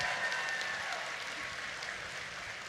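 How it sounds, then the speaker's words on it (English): Audience applause at the Don B. Huntley College of Agriculture commencement, a faint, distant wash of steady clapping that gradually thins over a few seconds. "Let's give everyone a round of applause."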